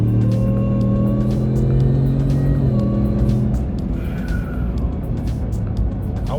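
A 2023 Ford Shelby F150 Supersnake truck, rated at 800 horsepower, accelerates hard, heard from inside the cab as a loud, steady engine roar with a harmonic drone that sweeps and shifts, with no talking over it.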